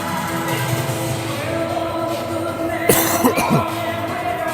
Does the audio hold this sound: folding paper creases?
no